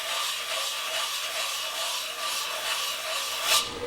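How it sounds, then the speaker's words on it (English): Sandpaper dipped in mineral oil rubs against wood spinning slowly on a lathe at about 50 RPM, a steady close scratchy hiss with gentle pulsing and a small brighter scrape near the end. "I turn the lathe speed down slow."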